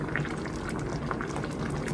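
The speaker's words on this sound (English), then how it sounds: "now it's come up to a boil" Navy bean and ham stew boiling steadily in a pot, a dense continuous bubbling and simmering close by, with no voices.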